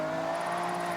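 A Toyota Altezza in Forza Horizon 6 holds a steady, sustained engine drone with a constant tonal whine, loud and unbroken, with no talking over it.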